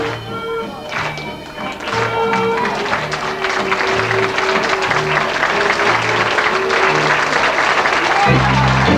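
Applause for performers on stage at a live show, a dense rattle of clapping that starts thin and swells, mixed with music and tonal sounds and voices talking over it.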